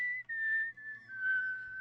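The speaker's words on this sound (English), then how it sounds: "We've got whistling." Someone whistles a steady, sustained note that wavers slightly in pitch, broken by a couple of brief pauses, close and fairly quiet.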